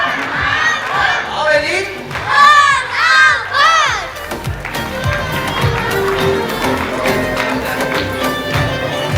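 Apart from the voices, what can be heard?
applause and cheering at a birthday party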